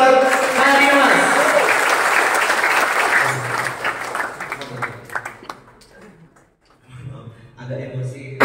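A seated audience at a civil-service orientation send-off in Bogor Regency claps loudly for the commander. The thick applause lasts about five seconds, then thins out and gives way to someone speaking over scattered claps.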